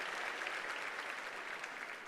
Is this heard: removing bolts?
no